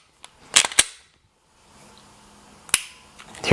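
Sharp dry-fire clicks come from a Glock fitted with an IGFS duty trigger and a 4-pound spring, a close quick pair of snaps followed later by a single crisp click and faint handling noise.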